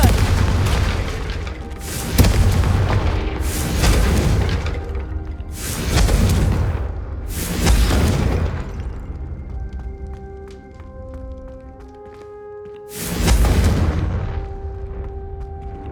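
Confringo spell explosions from the video game Hogwarts Legacy boom loudly five times in steady succession. A quieter stretch with game music follows, then a final heavy blast.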